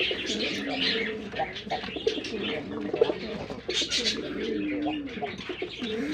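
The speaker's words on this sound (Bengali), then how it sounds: "লাল গোল্লা কবুতর" Red Golla pigeons cooing in a loft, soft repeated throaty coos mixed with chirps from several birds, close and continuous with faint background noise.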